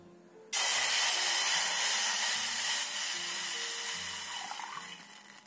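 Water gushes steadily into a bowl from a tap, starting abruptly and running loud and close for about five seconds before easing slightly.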